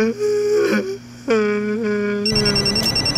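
A telephone rings with repeated electronic trills, clear and near, ending in a brief burst of noise.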